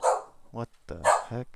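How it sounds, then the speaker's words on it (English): A pet dog barks in sharp bursts indoors, two clusters of barks close by with a voice speaking between them. "That's our dog barking."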